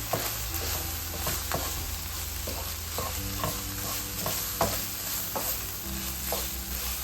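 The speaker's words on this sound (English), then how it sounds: "Stir that in." Shepherd's pie filling with brown gravy is stirred in a pan: a steady sizzle runs throughout while a utensil scrapes and taps against the pan in repeated strokes.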